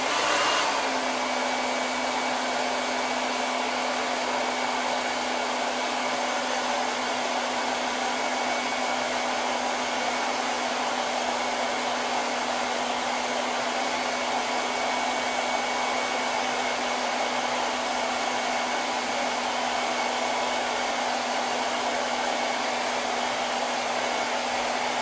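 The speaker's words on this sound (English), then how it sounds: "I should probably dry this just a little bit with the hair dryer" A hair dryer blows steadily on wet paint in the grooves between wooden boards, a constant loud whoosh with a fixed whine that runs unbroken for the whole stretch, with no talk.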